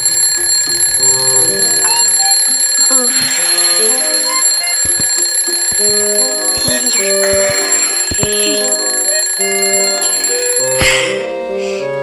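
An alarm clock rings loudly and continuously with a shrill electronic tone, a jangling pattern of repeated beeps running alone for most of the stretch before cutting off near the end.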